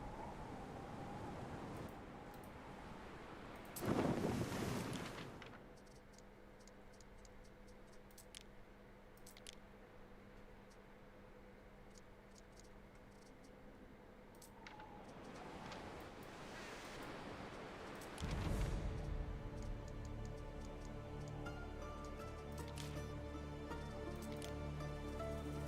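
Waves wash through a Roman city-building video game in long surging swells, with two loud rushes rising over a softer steady wash and a tonal musical bed, with no talking.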